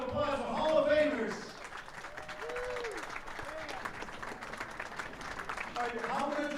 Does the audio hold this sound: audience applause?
yes